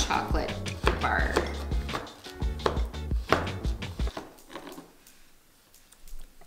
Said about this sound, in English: take my knife and just slowly start to shave off that chocolate bar